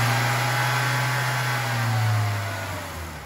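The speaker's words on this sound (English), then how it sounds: "And now he will rev the engine above 2000 RPM for 2 seconds." A VW Cabriolet engine revs above 2000 RPM in a steady, loud, close-up drone that climbs slightly and then eases off, with no talking.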